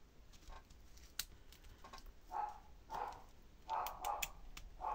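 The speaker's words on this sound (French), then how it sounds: "Désolé pour le chien." A dog barks indoors a few times from somewhere off to the side, short sharp yaps in a loose cluster over quiet room noise.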